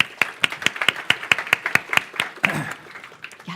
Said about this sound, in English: So please, a warm welcome applause to Roger Brown.